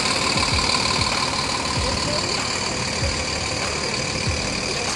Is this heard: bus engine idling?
yes